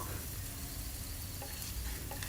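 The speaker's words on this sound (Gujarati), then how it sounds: "તો 1 મિનિટ સુધી સરસ રીતે ધીમા ગેસની ફ્લેમ પર ડુંગળી આદુ મરચાં લસણને સાંતળવાના છે" Onion, ginger, green chili and garlic sauté in a pan over a low gas flame for Kolhapuri misal, a dense continuous sizzle with faint stirring, close and steady.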